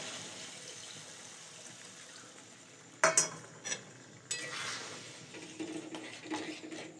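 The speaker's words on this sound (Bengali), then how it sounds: "সামান্য পরিমাণে একটু জল দিয়ে দিই।" Water poured into a pan of coconut vegetable curry and stirred, faint scraping and sloshing arriving in a few short bursts after a quiet start, close by with no talk.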